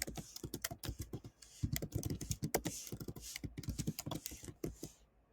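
Fingers type a name for a saved view on a computer keyboard, producing a rapid, continuous run of close, crisp key clicks that stops abruptly at the end.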